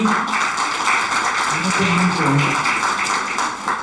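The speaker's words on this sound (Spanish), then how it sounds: "Entonces le damos un fuerte aplauso" Applause from a university conference audience at a panel on solidarity economy, a steady, dense patter of many hands clapping throughout, with faint voices mixed in.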